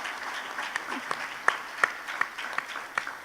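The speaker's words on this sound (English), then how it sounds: "yes, please clap, clap, clap" Audience clapping at an International Women's Day seminar in Lagos State, a light, scattered round of applause with a few distinct sharp claps, fairly brief, with some voices murmuring underneath.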